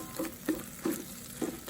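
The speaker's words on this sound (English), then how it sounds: "And we'll add about 2 green chilies, chopped and fried it up." Shredded ginger, fresh turmeric and chopped green chilies fry in an Instant Pot for pav bhaji, with four soft, evenly spaced stirring scrapes over a quiet sizzle, near and fairly faint.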